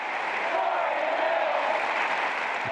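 A gym crowd cheers as a terminally ill basketball player steps onto the court, a loud, steady roar of voices and applause that holds throughout.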